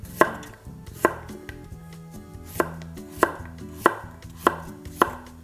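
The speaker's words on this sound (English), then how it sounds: "So for the radish, I'm gonna cut them into quarters like this. And thin slices." Knife cutting radish quarters into thin slices on a cutting board, producing sharp, crisp chops at an irregular, unhurried pace, close up and clear with no talking.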